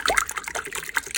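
A lukewarm mixture of milk, butter, sugar and salt is poured into a mixing bowl for cinnamon roll dough, giving a brief, close, splashy liquid trickle and glug with no voices.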